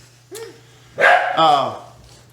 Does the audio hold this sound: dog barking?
yes